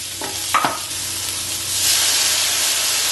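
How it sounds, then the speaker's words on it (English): Chicken breast sizzles in a hot pan after a quick clatter of stirring, the frying hiss swelling and holding steady near the microphone. "Sizzling."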